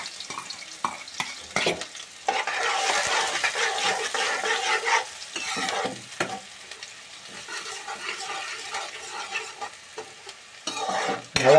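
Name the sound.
onions frying and stirred in pan with garlic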